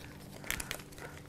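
Empty Ziploc plastic bags crinkle close up during an unboxing, with a few brief sharp rustles over a low hum and no talking.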